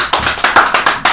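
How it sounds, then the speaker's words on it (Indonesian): Audience applause at a political talk-show event, a short burst of clapping with distinct repeated bursts, fairly loud and close, with no talking over it. "tepuk tangan dulu."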